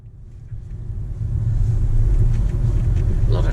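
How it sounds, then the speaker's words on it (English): Low road rumble builds as trucks pass on a southbound highway through Taranaki, heard from inside a moving car, a deep steady drone swelling over the first couple of seconds with light wind buffeting, no speech. "A lot of trucks on the road."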